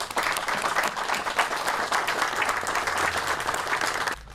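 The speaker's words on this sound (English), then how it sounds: "I think that deserves a round of applause" An audience at a town infrastructure announcement breaks into steady, loud applause, many hands clapping continuously for about four seconds before it stops abruptly.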